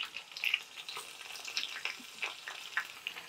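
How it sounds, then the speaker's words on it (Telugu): Mustard seeds, dry red chillies and garlic fry in hot oil, giving a faint, steady crackle with scattered pops and sputters. "ఆవాలు, ఎండుమిరపకాయలు, ఆవాలు వేసాం. ఇదిగో వెల్లుల్లిపాయలు"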